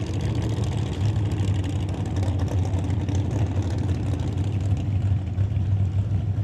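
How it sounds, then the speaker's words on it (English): Two drag racing cars, a '67 Shelby Mustang and a 1970 Camaro, do dual burnouts at a test and tune night, a sustained loud engine roar with a steady low drone and no talk. "Dual burnouts for these two."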